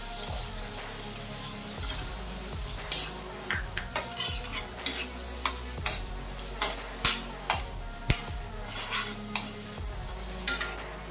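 Jaggery stirred into fried spice masala in a pan for a raw mango curry: regular scraping spoon strokes with sharp metallic clicks against the pan over a soft sizzle, close and steady, no voices.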